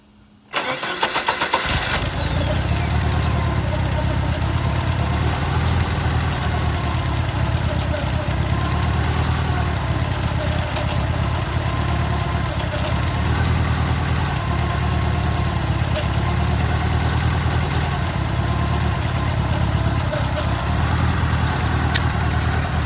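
A Ford Escort RS Turbo with a 1.6 CVH engine running Cosworth fuel injection, GRS intercooler and cooling fans cranks briefly, catches, and settles straight into a steady, even idle that carries on loud and close.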